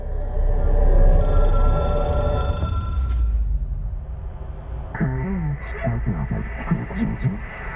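A hotline telephone in the game Control rings with a bright, buzzing electronic bell for about two seconds, loud and close over a low hum, then gives way to droning, warped tones.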